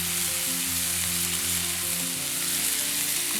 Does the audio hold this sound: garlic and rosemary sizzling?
yes